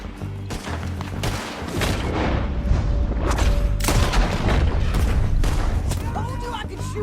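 Gunfire rattles through a shootout in Red Dead Redemption 2, with repeated sharp shots and booms layered over a constant din and dialogue running underneath.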